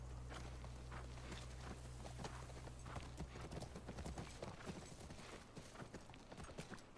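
Horse hooves clip-clop near a ranch, a steady run of hoof strikes that starts over a low rumble and continues alone for several seconds at moderate distance.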